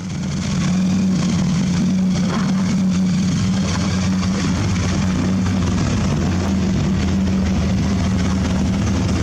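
A car engine topped with an 871 blower roars continuously while its tyres are shredded at a Powercruise event, a loud, steady, heavy drone that holds without a break and with no talk.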